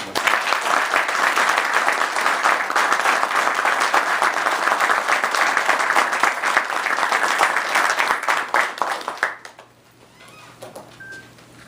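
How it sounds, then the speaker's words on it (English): Loud, sustained applause from an audience fills the scene for about nine seconds, then quickly fades out, leaving a quiet room. "how about a round of applause?"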